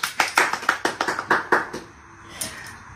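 Hand claps at a home birthday celebration, around ten quick, fairly loud claps in an even rhythm that stop abruptly, followed by near quiet and a faint brief sound.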